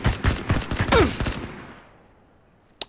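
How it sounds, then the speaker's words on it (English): A burst of rapid gunfire in PlayerUnknown's Battlegrounds, loud, dense shots crackling for about a second and a half, then fading into silence before one final sharp crack. "Those are shots at me."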